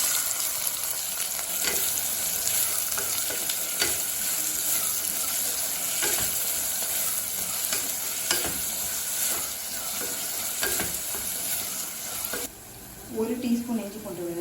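Finely chopped onions sizzle and fry in hot oil inside a pressure cooker with a bay leaf, black cardamom and cumin, a steady crackling hiss with periodic scrapes of stirring, ending in a brief clatter.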